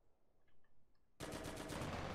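Gunfire in the video game Cuisine Royale: after a quiet moment, a sudden loud burst of rapid automatic shots rattles in a fast, even rhythm right up close.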